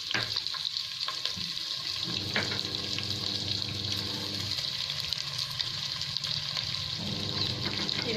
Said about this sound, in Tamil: இது நல்லா ப்ரௌன் கலரில் நல்லா ஃப்ரை பண்ணிக்கோங்க.